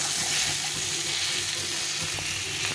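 Fried potatoes and aubergine sizzling steadily in a pan with cumin and chilli powder, giving a loud, continuous hiss that runs unbroken throughout.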